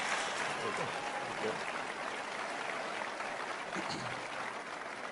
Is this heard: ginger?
no